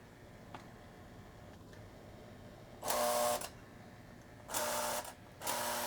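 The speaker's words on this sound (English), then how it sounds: "And there we have the milkman unloading cans of milk." A Lionel toy train milk car unloads cans at its milk stand, heard as three short bursts of a buzzing electric mechanism, each about half a second long and separated by quiet, with faint ticks between them.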